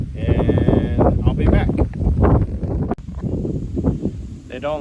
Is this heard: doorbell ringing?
no